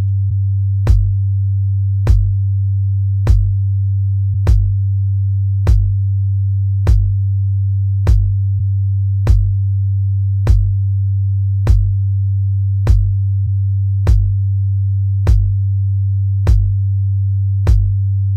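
Low sine-wave bass tone holding a steady pitch, loud and continuous, with short clicky kick-drum pulses repeating about once a second on top.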